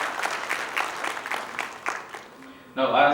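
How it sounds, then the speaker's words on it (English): An audience at an institute inauguration event claps in a steady round of applause, a dense patter of hands that trails off before a voice starts speaking at the end. "a round of applause."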